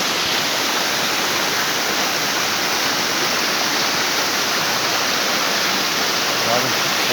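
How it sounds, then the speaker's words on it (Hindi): Kanhetti waterfall rushing in a steady, dense roar of falling water, close and loud, constant throughout with no break. "जी ये है कन्हेटी वाटरफॉल वादी सून में।"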